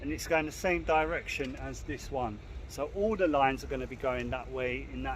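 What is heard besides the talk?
No everyday noises stand out.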